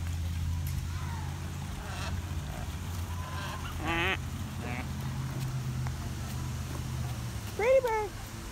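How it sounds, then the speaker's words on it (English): A swan at a zoo gives a few short honking calls, brief and spaced apart, with a louder cluster near the end, amid a low background rumble and people chatting nearby. "Like Miss Swan. Pretty bird"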